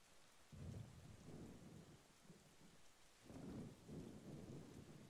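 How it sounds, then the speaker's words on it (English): A thunderstorm at sea in Wind Waker, with steady rain hissing beneath repeated low rumbles of thunder that swell and fade, faint overall and without voices. "It's getting stormy again."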